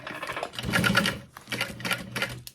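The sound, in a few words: sewing machine sewing a sling bag strap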